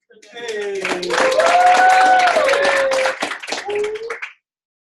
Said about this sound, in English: Clap it up again for you